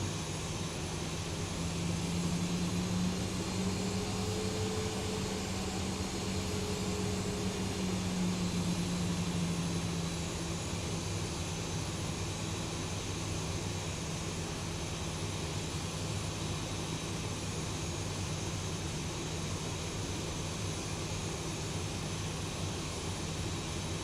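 Delta jet airliner taxiing toward the gate in the X-Plane flight simulator, a steady, continuous engine drone with a low rumble and a brief rising whine near the start, holding level throughout.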